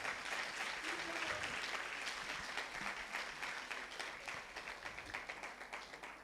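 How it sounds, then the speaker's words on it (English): Audience applause at a TEDx ceremony at Nile University of Nigeria as a guest professor is welcomed on stage, steady dense clapping filling the room throughout and slowly thinning toward the end. "Round of applause as he makes his way here."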